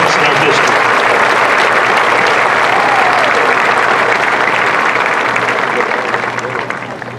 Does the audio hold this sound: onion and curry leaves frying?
no